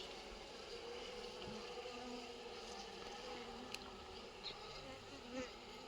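Honeybees buzz steadily around a hive, a dense continuous hum with faint individual wingbeats passing close by, no voices.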